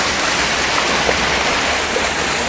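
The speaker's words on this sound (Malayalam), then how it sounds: "അപ്പോൾ തോട് നിറഞ്ഞൊഴുകുന്നു കേട്ടോ" A stream swollen to overflowing on a hillside rushes loudly and steadily, a dense continuous roar of flowing water with no voices.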